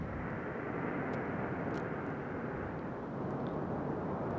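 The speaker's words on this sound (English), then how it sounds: "We have ignition and liftoff of a Delta II rocket carrying Themis" A Delta II rocket with nine solid strap-on boosters lifts off carrying NASA's THEMIS spacecraft, a dense, steady broadband roar heard from far off, even in level throughout.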